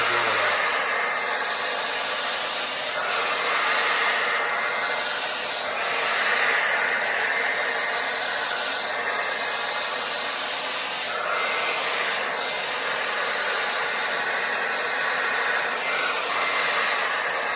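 An air blower pushes fluid acrylic paint across a canvas in a Dutch pour, giving a steady, loud, close-up rushing hiss that holds without a break and swells slightly at moments, with no talking.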